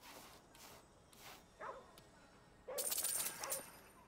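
A dog in Ghostwire: Tokyo gives a few short barks and yips, fairly faint, separated by quiet gaps, with brief game chimes and a soft voice nearby.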